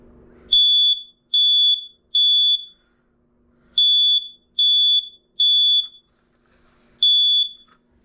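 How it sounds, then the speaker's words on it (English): A USA Universal smoke alarm set off with its test button gives loud, piercing electronic beeps in the classic three-pulse pattern, repeating close and alone in a quiet room. "Now let's test the test button of the USA Universal Smoke Alarm."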